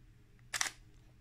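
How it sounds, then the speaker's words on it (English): A Pentax SLR camera's shutter fires with catch-in-focus enabled, a single short crisp mechanical click in a quiet room. "Now I'm going to press the shutter button down all the way."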